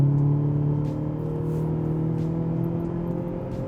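A 2019-2023 Ford Ranger four-cylinder with an AWE dual-exit cat-back exhaust accelerates, its steady humming drone rising gently and easing off, moderately loud and unaccompanied by voices.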